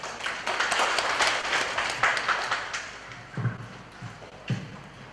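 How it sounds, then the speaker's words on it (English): An audience at a university women's dialogue event breaks into applause, a dense burst of clapping that thins over several seconds into a few scattered, louder individual claps near the end. "Can we give another loud clap for everybody?"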